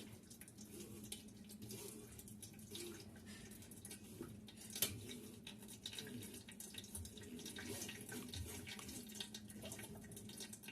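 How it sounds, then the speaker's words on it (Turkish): Grape juice being strained for homemade grape molasses gives a steady, close watery trickle and splash that runs without pause and without voices. "bütün üzümlerimizi bu şekilde süzüyoruz."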